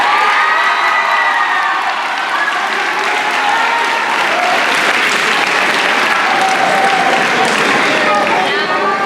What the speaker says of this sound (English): Applause for this year's graduating 8th grade.